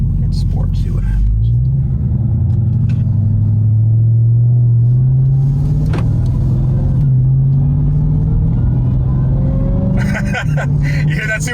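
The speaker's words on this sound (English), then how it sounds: "You hear that supercharger?" A Dodge Charger Hellcat Redeye converted from a V6 rental car accelerates in sport mode, its supercharged engine rumbling low and loud with rising whine as speed builds, steady throughout.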